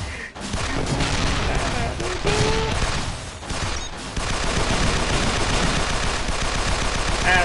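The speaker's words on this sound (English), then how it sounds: "At least hold still so I can use the full cannon on you." Dense, continuous cannon and gun fire from the Assault Gunner video game, a loud rapid barrage of blasts with a few brief dips, packed with explosive noise throughout.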